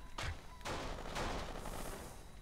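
Gunfire in the video game Kane & Lynch 2: Dog Days, a sharp shot followed by heavy bursts of loud, rattling gunfire that continue to the end, captured at a low level.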